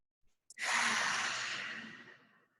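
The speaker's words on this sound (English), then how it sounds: "we're just going to take some deep cleansing breaths" One long, deep exhale during meditation, breathy and soft, comes close up. A brief catch of breath before it, then the breath slowly fades out in a quiet room.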